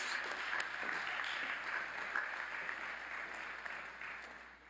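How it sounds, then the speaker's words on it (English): Sustained audience applause for doctoral and master's degree graduates at a university spring commencement ceremony, a steady dense wash of clapping that slowly thins toward the end. "Another round of applause for our doctoral and master's degree graduates"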